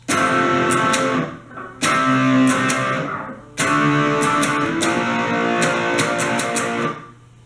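An electric guitar strums a riff in three bright, loud phrases of down-up chords, with brief gaps between them and a tail fading at the end.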